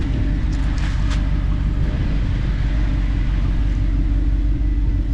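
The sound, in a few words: supercar exhaust running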